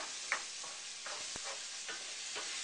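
Stock being stirred into a wild rice stir-fry in a pan, a steady soft sizzle with a few light scraping strokes at an even pace and no talking.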